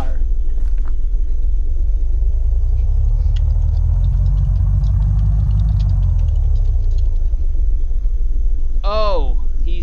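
Car engine in the video game Unturned, a loud, steady low rumble that rises and falls as it drives, with ticking game noises and voices talking over it.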